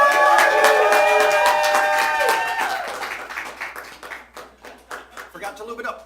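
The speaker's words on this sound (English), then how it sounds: "Ladies and gentlemen, let's hear you cheer." At a sideshow performance, a crowd cheers and claps, voices ringing out loudly at first before thinning into scattered, individual hand claps that taper off.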